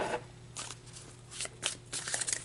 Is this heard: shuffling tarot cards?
yes